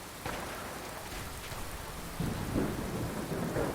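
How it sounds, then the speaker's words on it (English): Steady rain pours down with a low rumble of thunder in the video game Fallout 4, growing heavier and louder partway through, a dense wash of noise with no voices. "I can't hear a thing over this rain."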